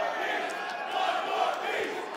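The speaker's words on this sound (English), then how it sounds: "The crowd is chanting, 1 more piece." A tournament crowd chants in rhythmic unison at a Yu-Gi-Oh Championship Series event in Indianapolis in 2023. The loud, sustained group chant fills a large hall, with a commentator's voice faintly beneath it.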